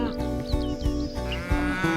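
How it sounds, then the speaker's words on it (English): Cattle on a Wagyu beef farm in a green valley at Gerringong, lowing in a few deep, drawn-out moos close by, with soft outdoor ambience and no talk. "very lucky cows."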